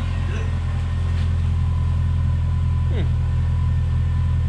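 A Subaru Impreza engine idles with its muffler cut off, a steady, deep rumbling drone throughout, fairly close, with faint voices in the background.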